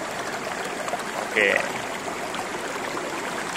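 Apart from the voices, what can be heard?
river stream flowing at a river junction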